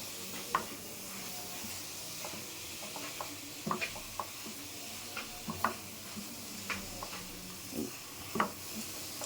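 A coconut and jaggery mixture cooking in a pan with cardamom powder is stirred: faint low sizzle under scattered soft scraping clicks of a spoon, quiet and intermittent, with no talking.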